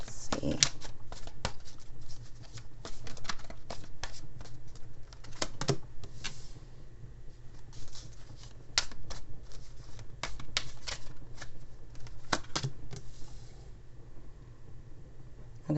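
A tarot card deck being shuffled in repeated quick riffles and slides, close and crisp, with a steady low background hum and no speech.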